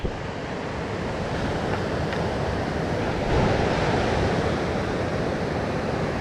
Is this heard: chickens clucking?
no